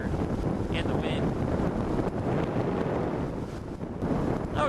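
Steady roar of wind buffeting a rider on a naked motorcycle, loud and continuous throughout with slight dips, close on the microphone.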